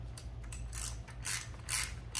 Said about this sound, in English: So we're going to use our 10mm socket wrench.